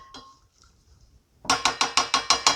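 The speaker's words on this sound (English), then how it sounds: "So I'm going to give this a quick stir." Spoon clinking against a pot of fish and shrimp soup as it is stirred, six quick evenly spaced metallic scrapes and clinks after a brief quiet stretch, close and fairly loud.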